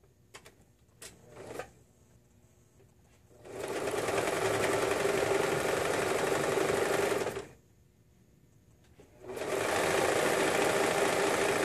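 Serger sewing machine stitching fabric seams, running in two long steady bursts of rapid mechanical whirring with a short pause between them, preceded by a few light clicks.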